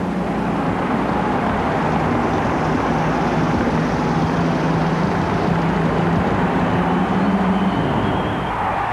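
Monster pulling vehicle with 6,000 horsepower roaring at full throttle during a truck-and-tractor pull at a 1991 USHRA event in New Orleans, a loud, sustained, dense engine drone that holds steady for the whole stretch.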